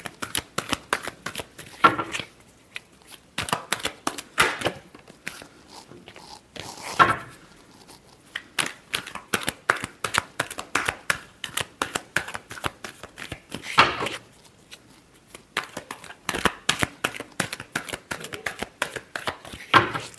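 Tarot cards being shuffled by hand in rapid, repeated riffling bursts, close and crisp, with short pauses between rounds of shuffling and no talking.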